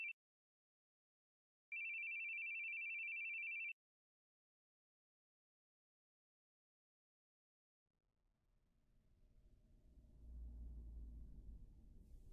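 A phone rings in The Boogieman horror video game, with two electronic tones, one short and one of about two seconds, followed after a silence by a rising low rumble.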